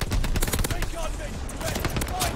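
Rapid, loud automatic fire from a high-damage SMG in Call of Duty Vanguard, a fast stream of close shots running through the whole moment with brief gaps between bursts.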